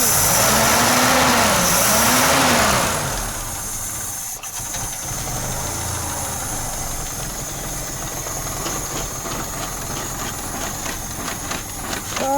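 Peugeot 505 2.0 engine fitted with a double barrel carburettor running close by, a loud steady idle with a rougher revving surge at the start before settling into an even running hum.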